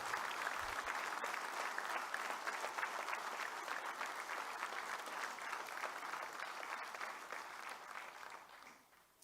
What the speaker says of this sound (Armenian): Ես առաջարկում եմ ծափահարություններով հիշել նրանց